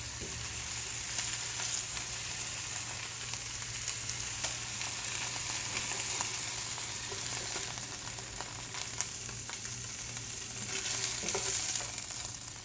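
Pork pieces browning in a frying pan for chile verde, giving a loud, steady sizzle of hot grease close up, with occasional stirring and no talk.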